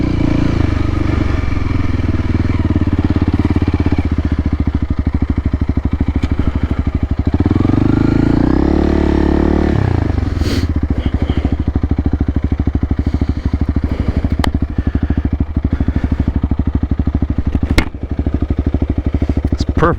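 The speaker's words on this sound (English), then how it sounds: "We're out riding hard like this off-road." An adventure motorcycle ridden hard off-road: a loud, close, continuous engine drone with a rising rev midway, plus rattling and clatter from rough terrain, no talk over it.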